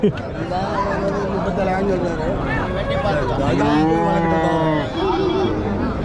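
Cattle moo repeatedly at a livestock market, with long, loud, drawn-out lowing calls that overlap, set against a busy background of murmuring voices.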